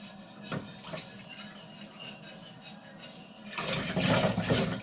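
Water running at a sink during dishwashing in a home kitchen, a low steady trickle that swells louder and fuller toward the end, with scattered clinks.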